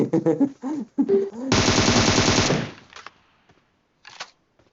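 Rapid automatic gunfire in the video game PUBG, a loud sustained burst of about a second with dense repeating shots, preceded by lively speech and followed by a brief fainter burst.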